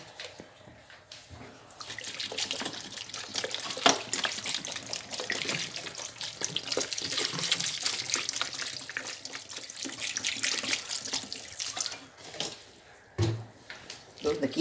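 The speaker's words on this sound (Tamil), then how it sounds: "இந்த கீரையை நல்லா தண்ணி விட்டு அலம்பியிருக்கேன்" Steady rush of running tap water with splashing as spinach leaves are rinsed, continuing for most of the clip with a brief break near the end.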